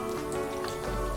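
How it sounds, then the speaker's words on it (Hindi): Onion pakoras fry in hot oil, a dense, steady crackle and sizzle heard close up and fairly loud, with no voices over it. "इसको हम हर तरफ से पलटेंगे और सुनहरा होने तक फ्राई करेंगे।"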